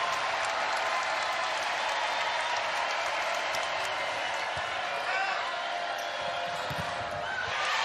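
Crowd at a Baylor vs Texas women's volleyball match cheering and applauding, a loud continuous roar of clapping and shouting filling the arena without letup, with a commentator's voice underneath.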